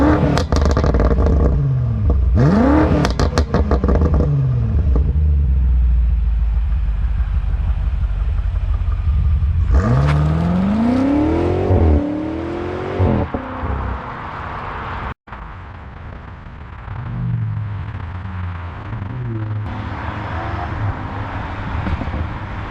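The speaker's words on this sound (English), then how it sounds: "rev it up here so you can hear it, but it sounds amazing" A 2018 BMW M5's exhaust roaring through repeated hard revs, rising and falling sweeps with crackling blips between, loud and close, then settling to a rumbling idle before another rev.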